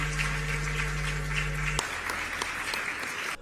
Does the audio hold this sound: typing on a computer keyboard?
no